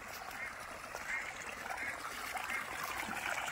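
Water pours steadily from a deep tube well beside a village poultry farm and catfish pond, a continuous rushing trickle heard close, with a voice speaking over it.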